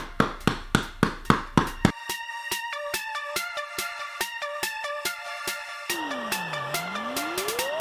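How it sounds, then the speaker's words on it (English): A flat hammer strikes a polished aluminum foil ball in light, evenly spaced taps, crisp and close, followed by a run of ringing tonal pulses and a swooping tone. "Now I've got a flat hammer and I'm just going to give it some light taps."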